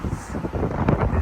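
Wind blows outdoors on a cloudy day, buffeting the microphone in a steady low rumble with gusty swells over about a second.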